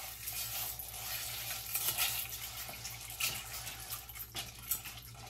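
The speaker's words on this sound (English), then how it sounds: "I'm gonna add about 1 1/4 cups of small shelled pasta." Small shelled pasta is poured into a cooking pot, giving a steady wet sizzle and bubbling close by with scattered light clicks and stirring.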